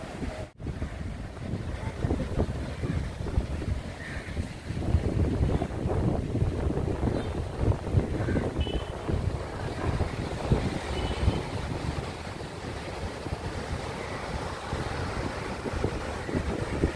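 Steady broadband rush of wind and surf at Bheemili beach (Bheemunipatnam), with constant microphone wind buffeting over rolling waves, loud and continuous throughout with no talk.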